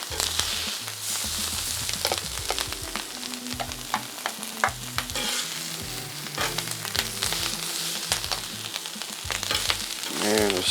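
Italian sausage links sizzle steadily on a grill, a dense crackling hiss running throughout with scattered pops and a low rumble beneath, no talking.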